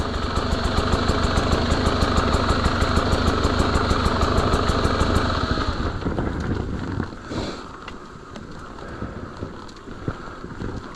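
A GasGas EC300 enduro motorcycle engine idles with a steady, close, loud rapid throb on a muddy trail for about six seconds, then drops back to a rougher, quieter idle with wind buffeting the microphone.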